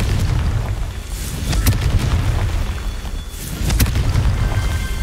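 Confringo blasting-spell explosions in a Harry Potter video game, two loud booming bursts with rumbling low tails over a continuous roar, the second blast arriving a few seconds after the first.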